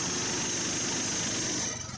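Polaris Sportsman 420 ATV engine running at a steady high-pitched drone on a fire guard trail, loud and close, briefly wavering at the end.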